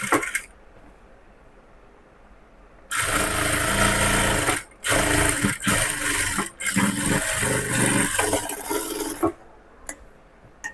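A sewing machine runs straight seams on cross-cut blouse fabric, a loud close whirring that starts after a quiet stretch and keeps going with a few short breaks.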